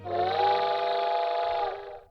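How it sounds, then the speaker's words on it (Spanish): A single long steam whistle blast, a steady harmonic tone held for nearly two seconds before cutting off, with a low rumble underneath. "Silbó el vapor, la locomotora se puso en movimiento."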